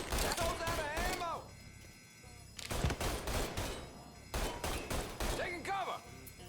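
Heavy gunfire in the Mafia III video game comes in rapid bursts of shots, separated by short lulls, while loud character voices shout over the shooting.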